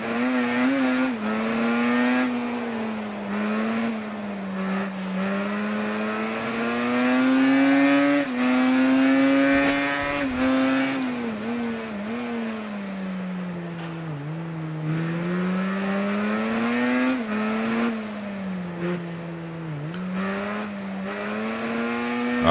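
A racing motorcycle in the video game Ride 3 drones steadily and loudly for the whole stretch, its engine pitch rising and falling as the rider accelerates, eases off and shifts, with no talking.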